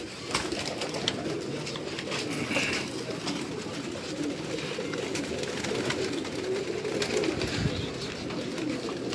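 Pigeons coo softly amid a steady murmur of background noise, with faint repeated calls at moderate distance and no voice over them.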